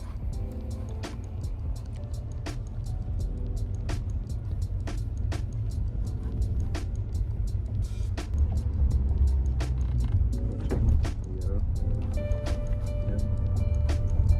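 Manual-transmission car engine held on the gas in a steady low drone, with regular ticking clicks running through it and the rumble rising slightly near the end.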